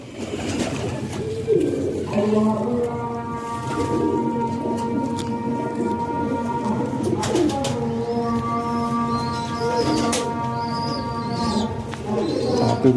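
Champion-bloodline pigeons coo in a loft with steady, overlapping low rolling calls that repeat throughout at close range against soft background noise.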